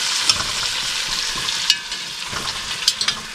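Food fries in bacon grease in a cast iron pan, a loud close crackle and hiss with occasional sharper pops and spatula scrapes, no voices.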